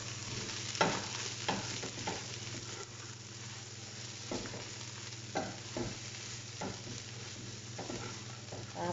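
Pasta with hotdog, black pepper and salt gets stirred in a frying pan, with repeated scraping strokes over a steady low sizzle, close and moderately loud with no talking.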